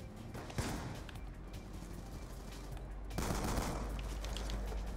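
Gunfire from the Executioner revolver in Black Ops 2 sounds as a continuous roar of game combat with heavy shots close by. A louder stretch comes near the end, with no talking.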